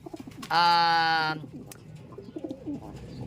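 A single loud, harmonically rich bird call rings out for nearly a second, followed by softer handling noises and faint murmuring nearby.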